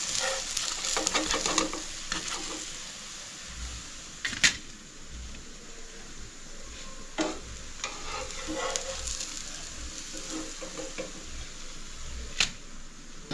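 Spinach chila sizzling steadily on an oiled griddle, a continuous frying hiss with a few sharp clicks and taps scattered through, close and moderately loud with no talking.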